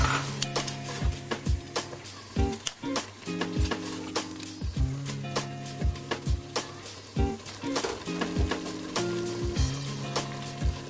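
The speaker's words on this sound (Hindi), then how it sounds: "इसे अच्छे तरीके से भूनूंगी, साथ ही मैं टमाटर का पेस्ट भी शामिल कर रही हूँ।" Beef boti masala fries in a pan with tomato paste, giving a steady sizzle. Sharp clinks of a spoon against the pot recur regularly throughout, with no talking.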